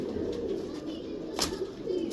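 A dub breed pigeon coos softly and repeatedly at close range, a low rolling murmur that pulses steadily through the short stretch with no other voices.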